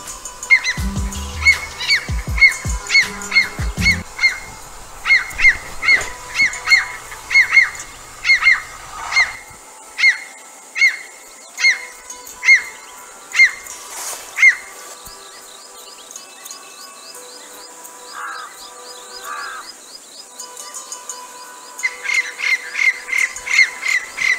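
A swamp francolin at Koshi Tappu Wildlife Reserve gives loud, harsh, squawking calls in a rapid rhythmic series. The calls pause briefly, then resume close by, with other birds faintly in the background.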